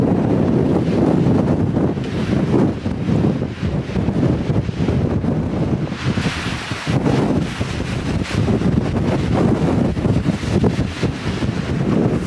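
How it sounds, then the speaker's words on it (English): Strong wind on an open mountainside roars steadily across the microphone, a loud continuous buffeting rush with gusts swelling throughout and no voices. "It's a little bit windy up here."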